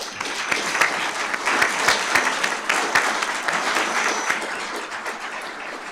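An audience at a fire and rescue awards ceremony gives a round of applause. The clapping is steady and sustained and carries on for several seconds.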